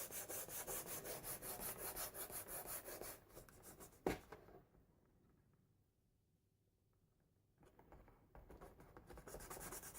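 Paper stuck onto a card easel is burnished by hand, giving faint rhythmic rubbing strokes, a brief tap, a quiet pause, then more soft rubbing close by.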